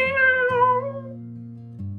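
A small abandoned kitten gives a thin, wavering cry that slides downward and fades, heard alone over a steady low hum.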